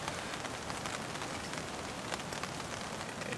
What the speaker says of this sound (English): A wood stove, the flicker of a flame, and rain.